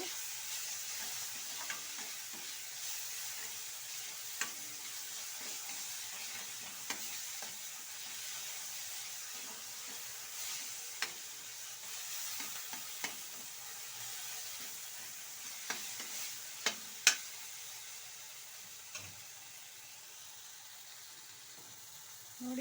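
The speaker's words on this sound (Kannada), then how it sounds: "ಹಾಕಿ ಒಂದ್ಸಲ ಎಲ್ಲವನ್ನ ಈ ರೀತಿ ಫ್ರೈ ಮಾಡಿಕೊಡಿ" Ingredients for an Agrahara-style egg curry fry and get stirred in a pan. A steady, close sizzle runs throughout, with scattered scraping clicks from a spatula and no talking.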